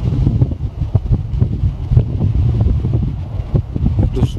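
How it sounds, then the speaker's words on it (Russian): Strong hurricane wind in the mountains roars and buffets against the microphone in loud, irregular gusts, close and continuous, with no talk over it. "Смотрите, какой ураган"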